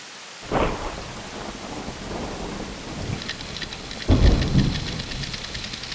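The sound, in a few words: heavy rain with thunder in a film scene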